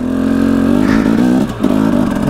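An enduro motorcycle revs hard while being ridden in freezing cold around -11°C, its loud, steady engine note rising and falling near the mic, with a brief dip in the roar before it picks back up.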